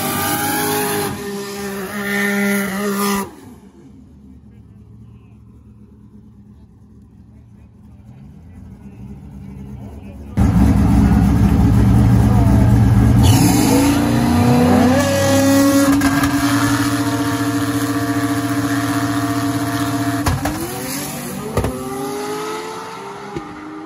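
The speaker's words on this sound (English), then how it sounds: "Schaefer trying to chase down that big ZL1 Camaro." Race cars accelerate hard at a drag race, one of them a ZL1 Camaro. Loud engine roars rise and fall in pitch, with a quieter stretch in between, and then a powerful near pass that ends in sustained revving while a commentator talks over it.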